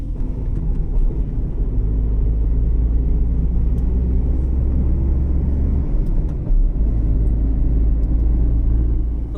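A 2020 Tata Tiago petrol hatchback, just back from a major service at over 1 lakh km, rumbles loudly from inside the cabin at a steady pace on a test drive, with road noise throughout.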